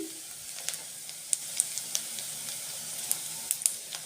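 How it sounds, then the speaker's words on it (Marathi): Cabbage with green chili sautéing in a pan for a Gobi Manchurian dish, a quiet steady sizzle with faint scattered crackles and light stirring clicks throughout, no voices. "आणि आपला कोबीज पाच मिनिटभर परतून घ्यायचं थोडं आपलं हे मऊ करून घ्यायचं"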